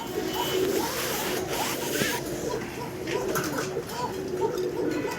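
A Lavender Chandan pigeon pair cooing close by, soft repeated coos over a busy background of rustling and shuffling, with no clear talk.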